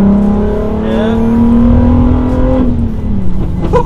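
A bagged, widebodied VW Caddy with an R32 engine pulls hard from inside the cabin, a loud, rising engine note climbing steadily before easing off, with a faint voice near the end.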